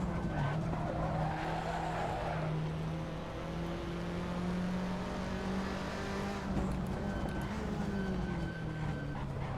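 Front tires of a Fiat touring car squealing and spinning out of the Corkscrew at Laguna Seca in a racing video game, a long sustained screech over a steady, loud engine drone with no talking.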